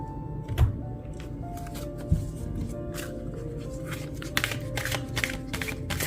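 Tarot cards being shuffled and handled during a reading, with soft papery flicks and scattered taps, a couple of sharper knocks, close and quiet under a faint background hum.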